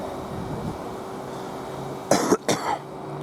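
Two sharp, close coughs burst out in quick succession beside a railway line, breaking through a quiet outdoor background hum.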